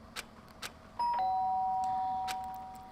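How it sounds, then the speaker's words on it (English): A doorbell in the Danganronpa video game gives a clear two-tone chime that rings out once and lingers as it decays, with faint soft taps before it. "The sharp sound of the doorbell pierced my sleepy haze and pulled me back to the real world"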